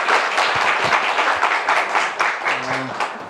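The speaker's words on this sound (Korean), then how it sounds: "큰 박수로 맞이해 주시면 감사하겠습니다" An audience at a book talk concert claps to welcome the host, a dense wash of applause that carries steadily to the end. A voice cuts in briefly near the close.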